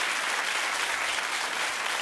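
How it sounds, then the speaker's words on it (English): A studio audience on a daytime talk show applauds steadily, a dense, even wash of many hands clapping close and loud with no pauses for the full two seconds. "Oh, keep clapping."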